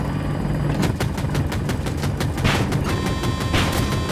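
Automatic gunfire in Battlefield 2042 on the Hourglass map, aimed at a helicopter, with several sharp shot bursts around a second and two and a half seconds in over a steady engine and battle rumble.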